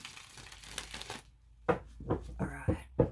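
Tarot cards being shuffled by hand, a riffling, papery rustle followed by a few sharp card taps and flicks, close and quiet.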